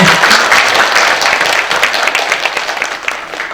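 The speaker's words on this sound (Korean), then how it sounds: "박수 한번 주세요" Dense, loud applause from an audience at a Sogang University mentoring center special lecture, a steady wash of many hands clapping that holds and only eases slightly toward the end.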